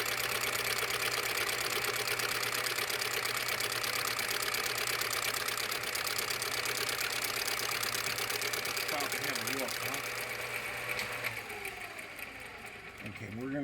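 An engine-driven machine running in gear while working wood for a Marlin Model 30G pump, a loud steady mechanical hum and chatter that dips and wavers near the end, with a voice speaking over it.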